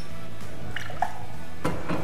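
A spirit is poured from a bar jigger into a cocktail mixing glass, giving a brief soft trickle and splash, fairly faint against a steady background hiss.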